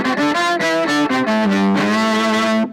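A bowed electric violin line through a Wampler Velvet Fuzz pedal, with a thick, buzzy distorted tone, playing a short melodic phrase of sustained notes, close and loud, with no voices.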